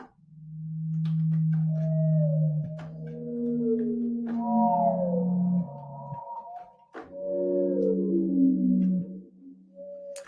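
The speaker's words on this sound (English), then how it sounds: "And then this is a blue whale." Blue whale vocalization, a series of long, low sustained tonal moans with slowly gliding pitch and layered harmonics, loud and alone with brief gaps between calls.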